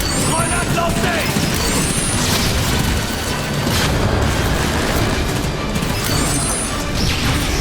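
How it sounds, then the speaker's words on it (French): A grenade explodes in a Transformers video game, heard as a dense crashing boom amid continuous battle noise and sharp whooshing effects. "Grenade lancée!"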